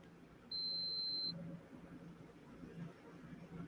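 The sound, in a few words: device beeping after being touched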